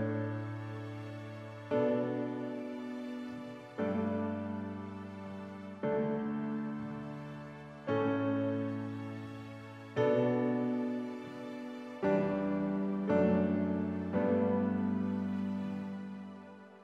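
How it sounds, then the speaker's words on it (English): Keyboard piano playing chorus chords for a song, struck percussively about every two seconds, each chord ringing and fading before the next, clear and alone. "we turn on our piano just so that we can use it as a percussive assistant in terms of laying down the chords for each section of the song"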